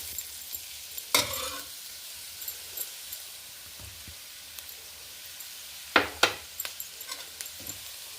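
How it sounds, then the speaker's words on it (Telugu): Ivy gourd and moong dal curry with coconut frying in a pan, with a soft sizzle under intermittent scrapes and clinks of a spoon stirring, close and fairly quiet. "అడుగు పట్టకుండా మొత్తం ఫ్రై చేసుకోవాలి."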